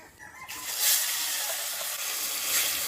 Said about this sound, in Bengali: মাছ তো সব ভাজা হয়ে গেছে, মাছ ভাজা তেলেই মশলাগুলো কষিয়ে নেব।